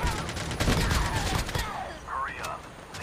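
Rapid AK rifle fire in the mobile battle royale game Call of Duty Mobile: a dense, loud burst of shots over about a second and a half, then quieter game sounds.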